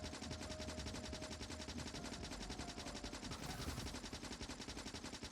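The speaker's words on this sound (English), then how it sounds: "I really like this machine gun." Rapid machine gun fire from the video game Factorio runs continuously at steady volume throughout, a dense rattling burst with no talk.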